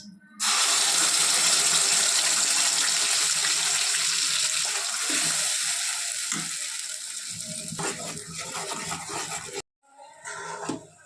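Coconut paste frying in a pan with cardamom and a bay leaf for a mixed vegetable curry, a loud, dense sizzle that starts abruptly, fades slightly over time, then cuts off briefly before resuming.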